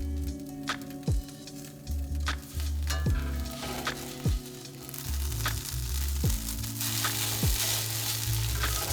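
Cooked noodles crisp up in a pan at a campsite with loud, continuous sizzling and frying, broken by repeated scraping and stirring thumps as they are pushed around.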